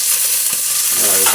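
Cooking oil sizzling and crackling in a pan before pancit goes in, a loud steady frying hiss with a scraping stir near the end, close up with no talk.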